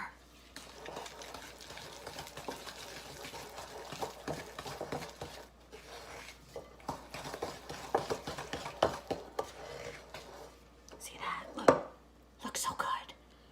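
Egg yolk is stirred into butter cookie dough in a mixing bowl, giving soft, irregular scraping and clinking strokes that build toward a few sharper knocks near the end, with quiet talk alongside.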